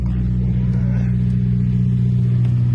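A Japanese-market used car's engine idles with an odd, irregular-feeling idle, producing a steady, loud low rumble that holds constant throughout with no revving.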